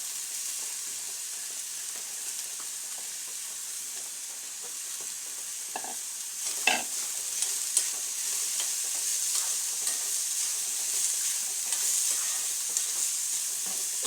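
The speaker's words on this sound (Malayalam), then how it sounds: "എണ്ണ നന്നായിട്ട് ചൂടായതിന് ശേഷം നമുക്കിതെല്ലാം ഒന്നിട്ട് ഇതിനകത്തേക്ക് ഇട്ടൊന്ന് വഴറ്റിയെടുക്കണം." Chicken momo filling is stir-fried in hot oil, a steady close sizzle with stirring scrapes and a sharp clatter partway through, followed by louder, busier frying.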